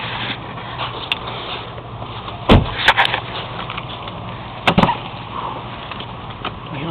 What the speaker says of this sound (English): Pop the trunk and gas cap.